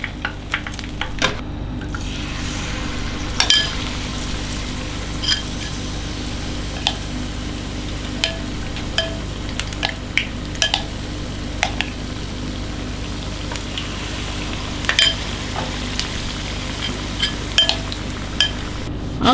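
Tofu pieces stuffed with egg fry in hot oil in a pan, giving a constant loud sizzle broken by frequent clinks and scrapes of a utensil against the pan.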